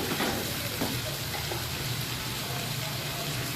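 Cumin and onions frying in hot oil for dhaba-style mash daal, a steady dense sizzle running continuously at moderate level with no pauses.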